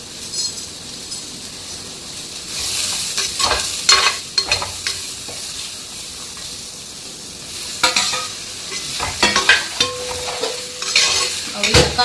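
Peppercorns, cumin and fennel seeds sautéing in a hot pan, a steady sizzle broken by loud scraping and clattering bursts as a spoon stirs them, close and fairly loud.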